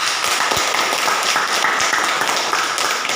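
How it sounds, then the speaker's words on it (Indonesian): Children in a rural school classroom clap together in a dense, continuous burst of applause, fairly loud and close, sustained evenly for a few seconds without speech. "Oke, kita sekali lagi tepuk tangan dulu."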